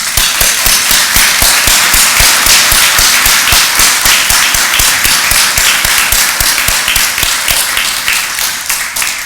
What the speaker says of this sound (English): Please join me in a round of applause to our future